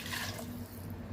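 Water poured into an electric pressure cooker for lemon rice makes a soft, close, steady splashing stream, fairly quiet and brief, with no talking.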